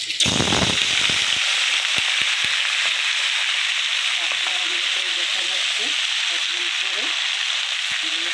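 Water lily stems dropped into hot oil for a hilsa fish curry, giving a loud burst of splashing as they hit, then a steady, dense sizzle with scattered pops and a few utensil clicks.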